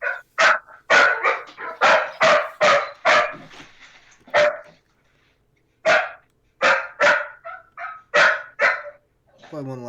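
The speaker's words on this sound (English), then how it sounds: "dogs are going crazy" Several dogs barking in loud, rapid bursts during a stock-trading live stream, with a short pause midway before the barking resumes close by; the barks carry a vocal, voice-like quality.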